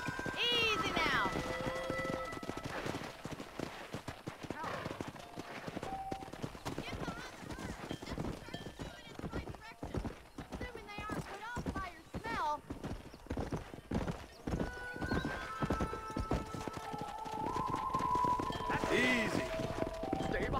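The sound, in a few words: horses and cattle moving, from video game Red Dead Redemption 2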